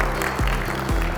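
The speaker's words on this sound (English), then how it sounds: "let's give them a loud applause" Audience applause at an allied health speaker conference, a steady dense wash of clapping filling the whole moment with no break or talk over it.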